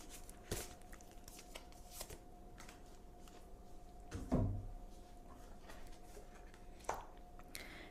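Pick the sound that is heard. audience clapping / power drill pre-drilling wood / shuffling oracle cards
shuffling oracle cards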